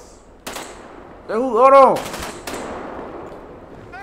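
Video game gunfire aimed at the player comes in loud bursts of several close shots with sharp onsets, while someone talks over and between the volleys.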